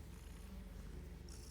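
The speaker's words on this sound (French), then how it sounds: "Qu'est-ce qu'on fait avec ce chat?" A cat purrs softly and steadily close by, a low continuous rumbling throb that lasts the whole moment with no voices over it.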